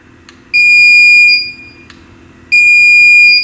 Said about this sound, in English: this tool is used to test for the presence of voltage on a circuit and will light up and beep if there is power